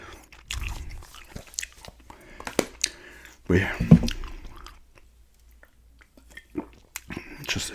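Close-up gum chewing with wet, sticky bites and soft crunches coming in uneven bursts, with a few quiet spoken words in between.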